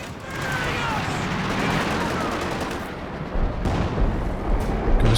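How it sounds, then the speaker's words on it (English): Artillery and gunfire from a Company of Heroes 2 2v2 match: continuous dense rumbling barrages and rattling shots with deep booming impacts growing heavier toward the end, with a voice talking over the battle. "it's the artillery on the AT gun"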